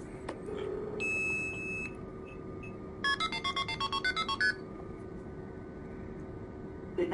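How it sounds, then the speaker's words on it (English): A BlizzyB Heron blue box plays telephone signalling tones over a line: a steady tone, then a rapid series of about a dozen short multi-frequency beeps, faint and close over a hum of line noise. "I've successfully blue boxed the call using this blue box, the BlizzyB Heron"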